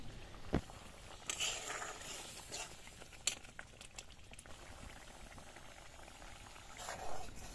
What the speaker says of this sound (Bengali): বেশ কিছুক্ষণ ধরে কড়াইতে ফোটার পর ঝোলটা শুকিয়ে এসছে।